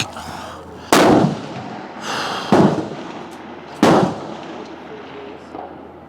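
Three loud, sharp rifle shots from a Swiss Martini Jagdstutzer, fired at a 300 m range outdoors, spaced about a second and a half apart, each with a short echoing decay.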